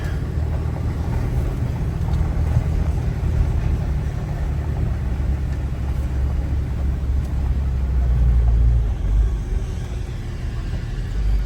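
A pickup truck hooked up to a trailer drives through a rock quarry with a steady, loud low engine rumble and road noise that swells slightly toward the end, with no voices.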